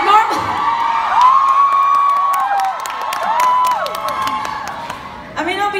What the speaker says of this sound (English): it doesn't happen a lot that I get a standing ovation before I even start to sing